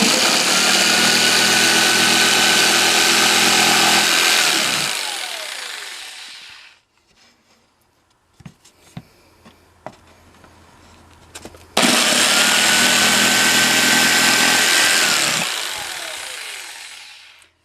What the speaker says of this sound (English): My poor little drill's about had it.